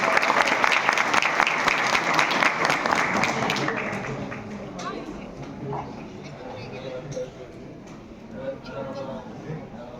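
Audience applause at a civil wedding ceremony greeting the metropolitan mayor, loud dense clapping that fades after a few seconds into crowd murmur and scattered voices.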